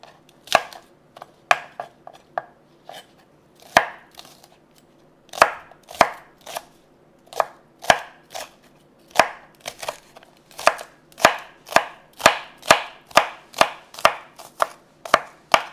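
A knife chops six spring onions on a cutting board, trimming the green tops separately, in a long run of sharp, crisp knocks that start sparse and irregular, then speed up into a steady, loud, close rhythm.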